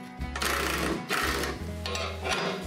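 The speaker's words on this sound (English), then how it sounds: "I tightened it up with the impact wrench." An impact wrench tightens the nut on a BXpanded Piranha tooth bar. It gives three loud, close bursts of rapid mechanical hammering, one after another.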